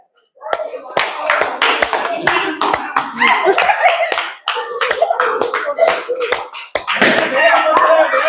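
A group of people clap their hands during a balloon-popping game, with irregular bursts of claps and sharp pops mixed with voices and some laughter, lively and close throughout.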